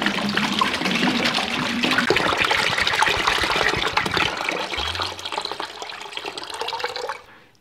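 Rinse water gushing out of a 1978 Honda ATC 90 fuel tank after a rust remover treatment, a steady loud splashing pour that thins out near the end and stops abruptly.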